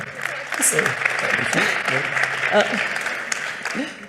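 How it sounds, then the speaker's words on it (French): A conference audience claps moderately and steadily for a guest speaker, a sustained patter of hands with some voices heard over it. "Vous pouvez l'applaudir."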